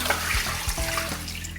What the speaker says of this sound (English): So I would rinse it about 2 to 3 times in cold water